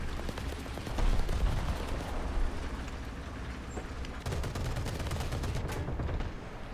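Gunfire from an M4A3E2 Jumbo tank battle in War Thunder, a dense stream of rapid reports and impacts over rumbling engine noise, loud and continuous with a heavier burst near the start.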